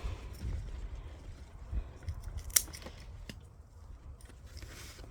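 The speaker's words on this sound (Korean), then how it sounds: "안 다치게 가위질을 잘해서 따내야 됩니다" Garden scissors snip through stems while a grape bunch is thinned, giving faint, sparse clicks with one sharper cut in the middle, set against quiet outdoor ambience.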